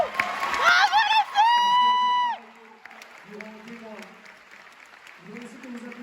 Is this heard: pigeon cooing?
no